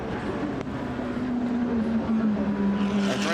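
GT Masters race cars, including a Lamborghini Huracan, circulate at the Oschersleben circuit, their engines droning steadily as one car's pitch sweeps slowly past, with a race commentator audible over the engine noise.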